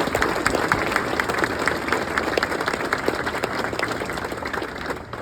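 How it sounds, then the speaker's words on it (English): A crowd at the Pierce and Green Bay Metro Fire Department 9/11 stair climb at Lambeau Field gives the NFFF a steady round of applause, dense clapping sustained throughout with a faint crowd murmur beneath. "so please, a round of applause"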